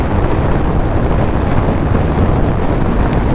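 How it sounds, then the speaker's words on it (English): Loud, steady wind roars across the microphone as a rider cruises on an unfaired 2022 Harley-Davidson Street Bob with a 114 engine, a dense continuous rush with engine rumble buried underneath. "you feel that wind though, man, with no wind protection on here"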